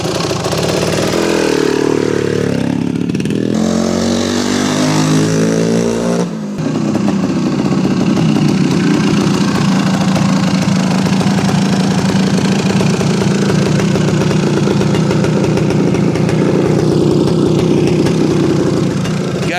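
A 1975 Yamaha DT400B big-bore two-stroke enduro motorcycle runs loud and close, its engine revved briefly at first, then settling into a steady, rough, buzzing idle that continues alone.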